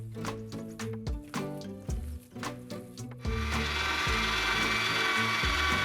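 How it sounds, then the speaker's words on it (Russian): Ground meat is fed a second time through a meat grinder: a mechanical droning whir with rhythmic grinding pulses and clicks, joined later by a louder steady whirring hum. "Хорошенько перемешаем фарш и прокрутим его еще разок."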